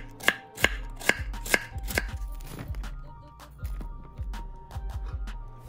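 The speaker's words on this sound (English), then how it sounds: "Cabbage is one of the tougher vegetables to chop, but I think this chef's knife does a pretty amazing job." A chef's knife chops through firm cabbage on a cutting board, five sharp evenly spaced strikes up front followed by softer, quicker chops, close and clear with no talking.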